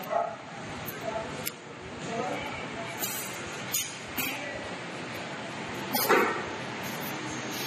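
During a police inspection with a dog squad in Karwar, Karnataka, a dog gives scattered short barks and yips amid a noisy outdoor background, while voices speak.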